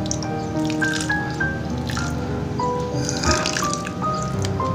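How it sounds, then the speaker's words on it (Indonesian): Slow watering of a potted pink love keladi plant: water trickles and drips steadily onto soil and leaves, with scattered small splashes and drips, close by and continuous. "Siram perlahan-lahan."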